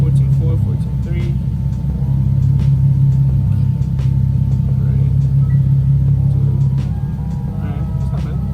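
A Nissan 370Z idles nearby with a steady low rumble and a constant hum, holding an even drone for several seconds while people talk faintly over it.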